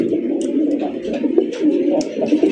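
Soft, low pigeon cooing repeats steadily at close range among caged red pigeons, a continuous murmur of several birds with faint chirps on top.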